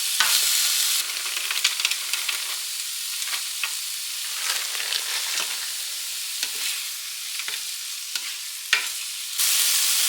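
Peppers and onions sizzle steadily in a pan, a close, continuous hiss broken by scraping stirs, with no voices.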